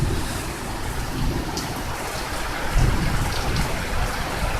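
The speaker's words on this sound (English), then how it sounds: "It's flying over here, this rain." Heavy rain pours steadily during a summer thunderstorm in Tampa, with strong wind, forming a dense, loud, continuous wash of noise with no voices.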